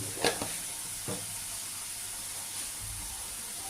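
Spice masala sizzling in a hot pan for a pomfret curry, with ground coriander, cumin and Kashmiri chilli powder frying in a steady soft hiss, broken by a couple of brief stirring clinks near the start.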